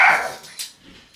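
A dog gives one loud, sharp bark at the start, followed by fainter yips and whimpers.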